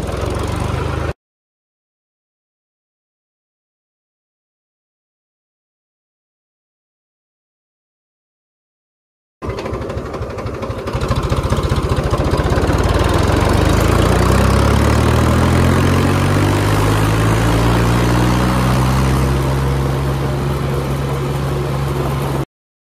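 A Swaraj 855 tractor engine idles steadily and close up, a loud low rumble with a brief burst at the start, then a long gap of silence before the engine runs again with rising tone and then holds an even throb.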